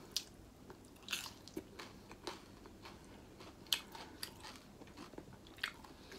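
Grasshopper legs are bitten and chewed close up, with a series of sharp crunchy bites at irregular intervals over soft, quiet mastication.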